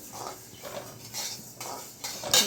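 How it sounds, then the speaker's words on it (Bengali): Mung dal frying in a pan for khichuri, a soft sizzle broken by repeated spatula scrapes and clinks against the pan in an uneven rhythm, close by. "এই যে ডাল ভাজা হচ্ছে খিচুড়ির জন্য, মুগ ডাল।"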